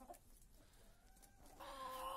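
A shaggy bearded hen clucks faintly at the start, followed by quiet background and a brief higher call near the end, close by.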